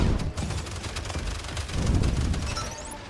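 Rapid turret gunfire in the hero shooter Paladins, a dense burst of repeated shots and impacts over several seconds with no pauses.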